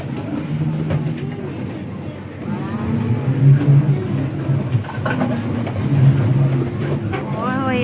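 A boat motor drones steadily on clear water, a low continuous hum that swells slightly at times, with people talking over it close by.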